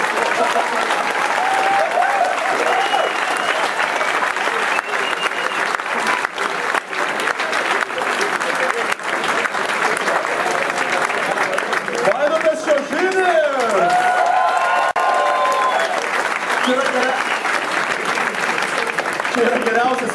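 A comedy club audience applauds and cheers a comedian leaving the stage, a sustained loud wash of clapping over twenty seconds, with whoops and a voice speaking over it midway.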